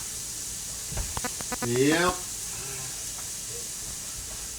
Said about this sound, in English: Throw those in this nice hot pan. You hear them sizzling.